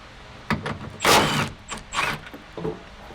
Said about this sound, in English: Pop that trim piece off of there.